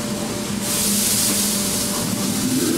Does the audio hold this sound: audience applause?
no